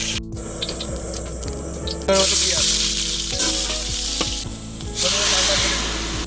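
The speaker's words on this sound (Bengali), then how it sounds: "পুড়িয়ে দেওয়ার জন্য আমরা কড়াইতে সামান্য পরিমাণ তেল দিলাম।" Loud sizzling of food frying in a little oil in a metal wok, with bursts of spattering and scraping stirs, no talking.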